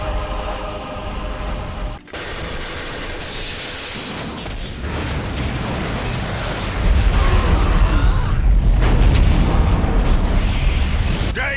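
Gunfire and explosions from the video game Warhammer 40k: Dawn of War – Soulstorm, a dense, continuous barrage of booms and shots with a brief dropout, growing heavier and louder in the second half.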